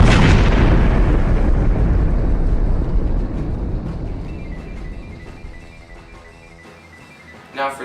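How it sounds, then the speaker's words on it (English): A loud movie-style explosion sound effect erupts at once, then a long rumbling boom slowly decays, with a brief crackle near the end. "Add videos of explosions,"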